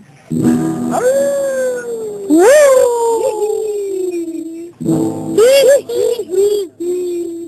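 People imitate howling outdoors on a court, sending up long wavering howls in several bursts that rise and fall, loud and close, with brief pauses between calls.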